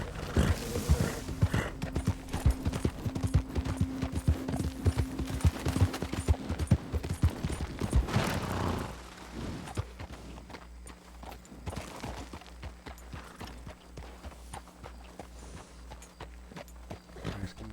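In Red Dead Redemption II, horse hooves clip-clop in a steady walking rhythm through a town, fairly close, alongside game ambience and a few other sharp knocks, with no talk.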